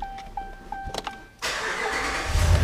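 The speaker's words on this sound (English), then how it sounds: "Truck fires up." A Ram pickup truck's engine cranks and fires up after a few faint clicks, then settles into a steady idle, close by and loud.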